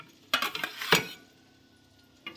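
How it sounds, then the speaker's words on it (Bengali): Spatula scraping and clinking against a pan while lifting food out, a quick cluster of metallic scrapes, then a pause and a final scrape, close and clear without talk. "খুন্তি দিয়ে আমি নামিয়ে নিলাম।"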